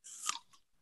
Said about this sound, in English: Let's try it. Shall we crunch?